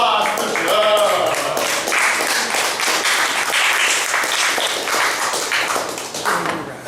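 Audience applause at an open-mic poetry night, a dense spread of clapping that runs steadily for several seconds, with a voice speaking over the start.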